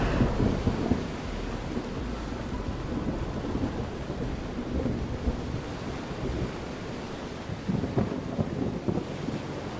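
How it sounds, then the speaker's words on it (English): Heavy rain hisses steadily in the video game Motorslice, with low rumbles of thunder rolling underneath and a louder burst near the start. The storm stays broad and even throughout, with no voices over it. "Wait, it's raining."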